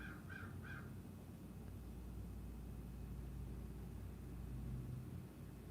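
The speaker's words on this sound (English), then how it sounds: "Can you hear the bird?" A crow caws three times in quick succession at the start, distant over a low, steady rumble of traffic that continues afterward.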